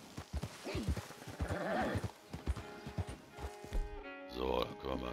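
Horse hooves clip-clop steadily while riding in Red Dead Redemption 2, a close rhythmic patter of hoofbeats with a brief snort or whinny, mixed with game sounds and someone talking over it.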